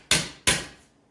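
Two sharp hammer blows ring out on the corner of a metal car body panel for a 1913 Duesenberg cyclekart, close and loud, each strike followed by a short metallic decay.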